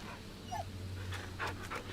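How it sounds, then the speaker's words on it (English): A dog in the video game The Medium pants softly in quick, breathy bursts, faint and close, over a low steady ambient hum. "Who's a good dog?"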